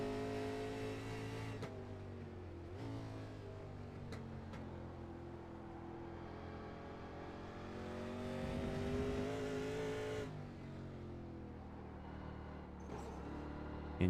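Onboard engine of a race car lapping Watkins Glen, loud and continuous, rising and falling smoothly with throttle and easing off under braking, with one swelling surge midway.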